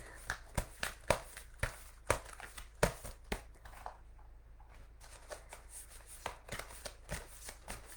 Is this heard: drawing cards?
yes